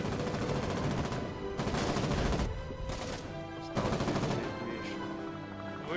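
Booming artillery shots in the war game Foxhole go off several times in a row, loud and close, each with a long rumbling tail over a dense battle din.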